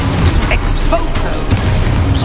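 A booming magical blast from the Exposo spell in Hogwarts Legacy bursts out loud and close, with a voice calling out spell names over the rumbling explosion.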